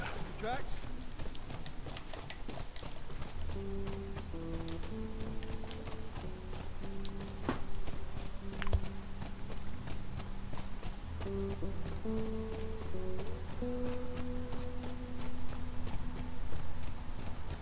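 Horses' hooves clip-clop steadily during riding in a video game, with music tones and people talking over the hoofbeats.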